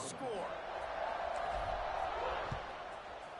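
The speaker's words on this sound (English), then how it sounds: "this crowd is buzzing after that last score." A large stadium crowd in a college football video game keeps up a steady, dense buzz of murmur and cheering, with a commentator talking over it.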